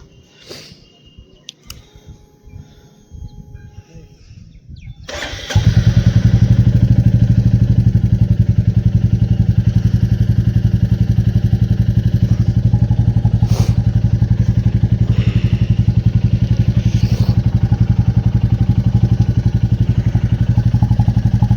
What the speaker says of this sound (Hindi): तो फाइनली बुलेट को भी स्टार्ट करते हैं।